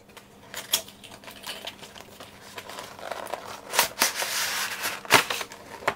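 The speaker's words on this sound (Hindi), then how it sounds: "तो इसको फटाफट से अनबॉक्स करते हैं" Unboxing a Logitech MK850 keyboard and mouse box: close, crackly rustling and crinkling of cardboard and plastic packaging with sharp tearing and ripping bursts, no voice.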